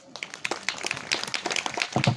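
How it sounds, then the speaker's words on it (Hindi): A crowd at a Christian wedding ceremony clapping hands in an irregular, lively burst that grows denser and louder toward the end, close by. "हालेलुया हालेलुया और ताली बजाएंगे हालेलुया।"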